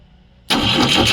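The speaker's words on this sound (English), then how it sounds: "let's fire the ignition up" A Volvo B20B engine catches abruptly after a moment of near silence, bursting into a loud, close, steady running roar with no talk over it.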